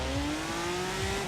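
Ferrari 812 Superfast with wide-body kit in Forza Horizon 4, its engine note climbing steadily in pitch as it accelerates hard, loud and continuous with no talk over it.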